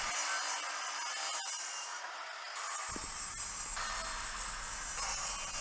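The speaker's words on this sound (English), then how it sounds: "Now out of new CLS timber I'm gonna cut the rough size for the sides." Rough-cutting new CLS softwood timber to size for dresser sides with a hand saw, giving a steady rasping, scraping sound that carries on throughout at close range, with no talk.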